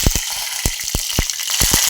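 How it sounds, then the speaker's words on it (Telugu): Garlic and curry leaves fried in hot oil for a dal tempering: a steady close sizzle with repeated short sharp crackles and pops spattering through it, loud and without talk. "ఇప్పుడు మనం ఈ విధంగా మంచిగా వేగిన తర్వాత దీన్ని పప్పులో కలుపుకోవాలి."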